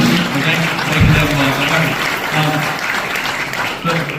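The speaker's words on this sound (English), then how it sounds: "let's give him a round of applause" An audience gives sustained, dense applause for a World War II veteran at a Pearl Harbor Day commemoration; the clapping fills the room evenly from start to finish, with a voice faintly audible underneath.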